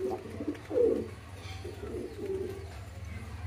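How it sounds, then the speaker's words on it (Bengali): A pair of Damascene pigeons coo softly in their loft, a few low, throaty rolling coos spaced over a few seconds against a quiet background hum. "এই আমাদের দামাচিং জোড়াটার ডাক দেখেন"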